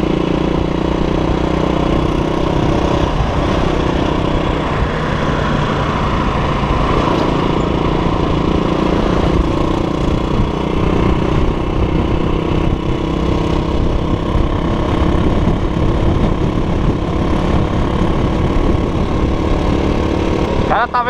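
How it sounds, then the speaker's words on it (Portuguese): Strong wind roars against a motorcycle rider crossing a bridge over the Rio Branco in Roraima, a constant loud buffeting rush mixed with the motorcycle's engine drone, steady throughout with a voice speaking over it. "O cara tá ventando muito forte em cima da ponte aqui, ó."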